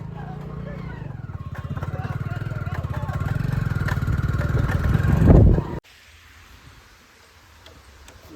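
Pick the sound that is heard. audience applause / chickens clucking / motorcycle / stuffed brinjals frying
motorcycle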